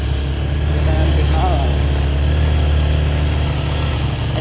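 A motorcycle climbs a steep hill on a rural road in Honduras, its engine a steady loud drone throughout with a faint voice briefly heard over it.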